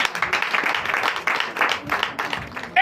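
A church congregation in Benin applauding during a Sunday service, a loose, crowded patter of clapping hands with murmuring voices and some cheering, moderately loud and close.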